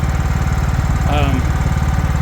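The small engine of a 2004 John Deere L110 lawn tractor that smokes badly runs at a steady, loud, close throb, with a brief voice over it.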